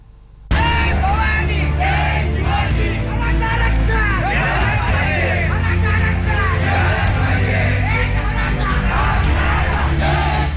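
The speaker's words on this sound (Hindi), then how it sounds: "ये भीड़ आज मुंबई पर भारी पड़ गई।" A large crowd of Maratha protesters marching through Mumbai, a dense roar of yelling, chanting voices and babble that holds steady and loud from start to finish.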